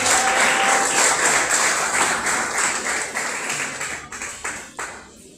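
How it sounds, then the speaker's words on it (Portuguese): A congregation applauds during a Portuguese-language church sermon, a dense, sustained wash of clapping heard from within the room that gradually thins out and fades over the last seconds. "Aplauda o Senhor."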